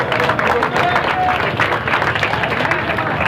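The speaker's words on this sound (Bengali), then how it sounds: "আরো জোরে হাততালি হোক" Applause at a football tournament prize ceremony as a runners-up trophy is handed over, a loud dense crowd of clapping filling the whole moment, with voices mixed in underneath.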